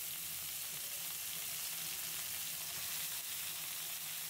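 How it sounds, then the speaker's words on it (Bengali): Pumpkin greens hit a pan of browning garlic and onion, giving a steady, even sizzle of frying throughout with no voices. "রসুনগুলো বাদামি কালার হলে শাকগুলো দিয়ে দিচ্ছি"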